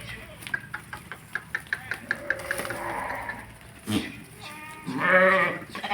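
A run of quick rhythmic chopping or clicking taps, then goats and sheep bleating nearby, with a loud wavering bleat toward the end.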